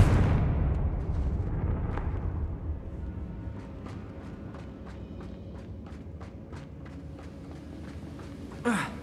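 Fiery Confringo spell explosion in the Hogwarts Legacy video game: a loud, broad blast already under way that rumbles and slowly fades, followed by a run of quick, light footsteps.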